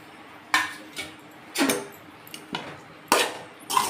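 Rice going into a pot while cooking Andhra-style pulusu annam, heard as a handful of sharp metallic clinks and scrapes of a utensil against the pot, spaced irregularly over a quiet kitchen background.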